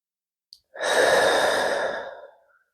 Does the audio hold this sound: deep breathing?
yes